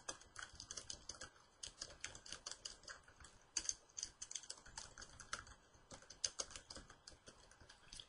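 Someone types an email on a computer keyboard, producing a quiet, irregular patter of close key clicks with short pauses between bursts.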